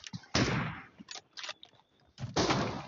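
Gunfire in a shooting video game, several bursts of loud close shots separated by short pauses, with smaller clicks and impacts between them.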